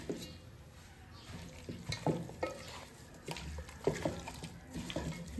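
Raw chicken pieces being stirred and mixed by hand with salt, chili powder and masala for chicken dum biryani, a soft, steady wet squelching and scraping close up, fairly quiet.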